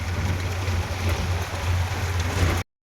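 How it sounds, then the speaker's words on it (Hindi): Heavy rain pouring down in a village, a dense, steady hiss of downpour close by with a low rumble underneath, no voices, ending abruptly. "बहुत तेज बारिश हो रही, झमाझम"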